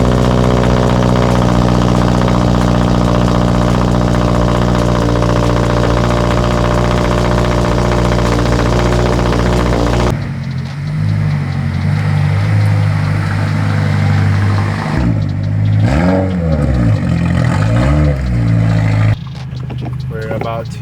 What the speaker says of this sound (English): And let's get a cold start for you right now on this car.